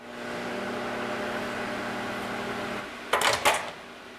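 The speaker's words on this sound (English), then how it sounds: "I'm going to let this melt in the microwave for like 20 seconds" A microwave oven hums steadily for about three seconds while melting seasoned margarine for a Thanksgiving turkey, then stops, followed by two sharp clunks like the door opening.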